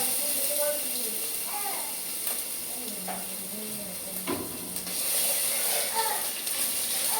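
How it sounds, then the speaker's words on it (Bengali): Ginger garlic paste fries in hot oil in a wok with a continuous close hiss and sizzle, joined by a few light clinks of stirring and a voice talking over it. "এর মধ্যে দিতে হবে হচ্ছে যে আদা রসুনের স্মুথ পেস্টটা বানিয়েছি, সেটা দিয়ে দেবো আমি তেলের মধ্যে"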